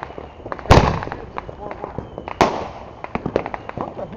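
A fireworks battery going off outdoors: two loud booming bursts followed by a scatter of rapid crackling pops and smaller reports, with people talking in the background.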